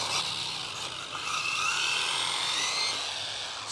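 A Rlaarlo AK 917 brushless carbon fiber RC car drives around, its motor giving a high, whining buzz whose pitch shifts up and down as it runs, with no one speaking.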